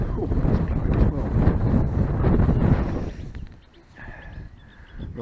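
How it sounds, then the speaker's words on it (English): A northerly wind blows by a river, roaring and buffeting the microphone in a loud, steady rush for about three seconds before easing to a quieter breeze with faint tones in the background. "today we've got a northerly wind blowing"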